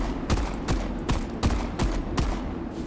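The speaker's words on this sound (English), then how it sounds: "I may as well just blast him with the pistol" Pistol shots from a video game set in Metal Garden, five evenly spaced sharp cracks over a steady low background hum, loud and close with no talk.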